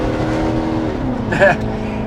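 A 1966 Chevrolet Impala's 427 V8 engine roars steadily with a deep rumble, swelling briefly louder as it revs near the end, heard close from inside or beside the car.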